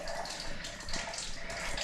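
Water runs steadily from a hillside spring on the Malvern Hills, a close, continuous rushing splash that holds an even level throughout.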